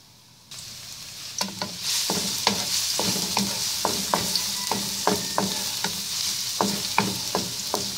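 Finely chopped garlic fries in about an eighth cup of olive oil, a loud, steady sizzle that starts abruptly and is punctuated by a dozen or so sharp spatula scrapes and taps against the pan.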